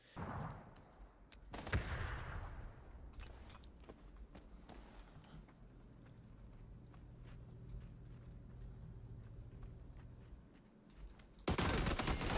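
Bursts of gunfire crackle in sharp, dense volleys, loud at the start, settling into quieter scattered shots, then a heavy roaring burst near the end.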